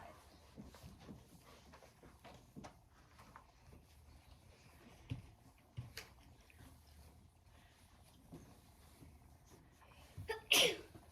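A single sharp sneeze near the end, after a stretch of quiet room noise with faint rustles and breaths.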